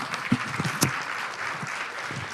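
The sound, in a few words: audience applause at a conference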